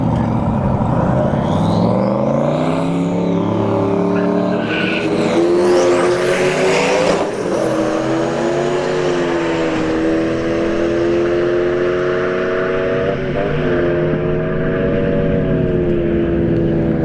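A turbocharged Camaro SS and a Ford Fiesta launch side by side at a drag strip, engines roaring loud and sustained, rising in pitch through the gears across the whole run.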